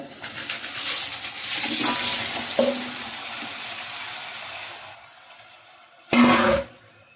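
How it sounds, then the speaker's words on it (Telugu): Pieces of spotted snakehead fish go into a hot pan for a village-style curry, setting off a loud burst of sizzling that slowly fades, then a short, sharp hiss near the end. "ఈ చేపలన్నీ తీసుకొచ్చి ఇందులో వేస్తున్నాను"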